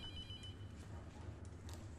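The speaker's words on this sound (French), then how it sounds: "Le téléphone sonne, il n'y a pas d'électricité ici, c'est vrai?" A telephone rings faintly inside an abandoned building with no electricity, in the horror game Abandoned Souls, a thin tone that fades into steady low background hum.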